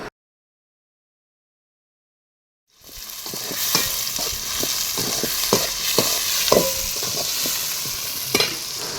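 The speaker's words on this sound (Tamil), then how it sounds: "கொஞ்சமாக உப்பு ஆட் பண்ணி நல்லா பொன்னிறமாக வதக்கணும்" After a couple of seconds of silence, a steady oily sizzle of small onions frying in oil begins, close and loud, with scattered stirring clicks and scrapes.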